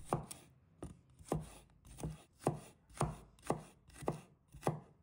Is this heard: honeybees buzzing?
no